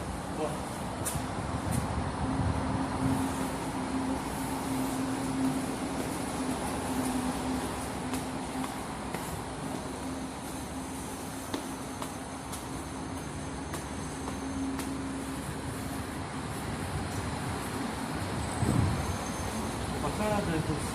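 A Moscow metro train at Filatov Lug station gives a steady, loud rumble with a sustained whine, carrying on without a break beneath faint background voices.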